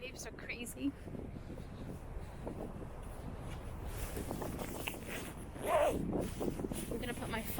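A phone is slipped into a jacket pocket while walking a windy beach boardwalk, brief fabric rustle and handling noise close to the mic over steady wind roar, with a louder scuffing burst near the end.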